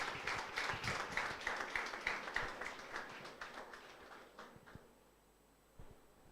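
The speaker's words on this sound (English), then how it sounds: "So give him a big round of applause." An audience at a pharmacy college's national conference claps steadily, the applause strong at first and then thinning out and fading, with a few stray claps at the end.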